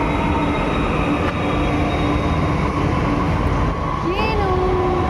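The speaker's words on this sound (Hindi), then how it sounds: "देखो मेट्रो बेटा।" A metro train passes close by with a loud, steady rumble and rail noise, and a wheel squeal rises near the end, while people talk over it.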